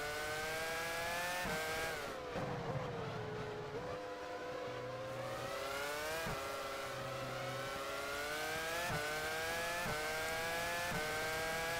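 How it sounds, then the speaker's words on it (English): A Formula One car engine from the racing game F1 Challenge 99-02, running with a misfiring cylinder, revs up and down continuously in loud, close harmonic sweeps with slight stutters and no talking. "we've got a misfiring cylinder"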